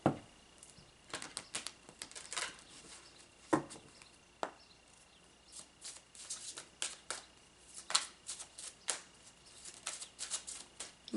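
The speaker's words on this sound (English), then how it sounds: "Do one more shuffle." A deck of cards is shuffled in a quiet room during a tarot reading, giving quick repeated riffles and soft snapping bursts over about ten seconds, close but low in level, with no talk.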